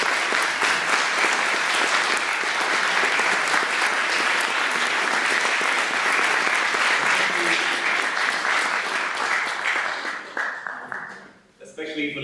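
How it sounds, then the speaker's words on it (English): A large audience applauds an ambassador of Venezuela at an event celebrating the 1917 October Revolution. Loud, dense clapping runs steadily for about ten seconds, then thins and fades out near the end. "please give her a big round of applause"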